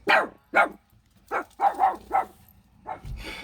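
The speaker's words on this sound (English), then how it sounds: "My dog. I don't even know what he's barking at." A dog barks repeatedly indoors, a string of about eight sharp, fairly close barks in uneven bursts, with no one talking over them.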